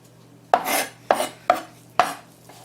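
A knife chops vegetables on a cutting board while beef stew with green chilies and pinto beans is prepared, four sharp, separate strikes spaced about half a second apart, close and fairly loud over a low steady hum.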